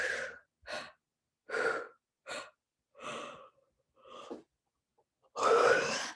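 Heavy breathing during a tapping-and-breathing exercise: a series of distinct, close, audible breaths, some short and quick, some longer, separated by brief silences and ending with one long, forceful exhale.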